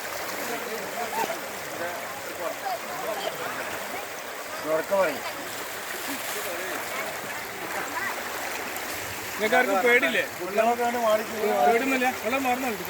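A flooded stream overflows its banks, a steady rush of water running underneath people talking nearby for most of the stretch.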